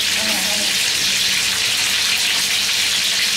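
Rui fish fries in spitting hot oil, giving a loud, dense, unbroken sizzle close to the listener.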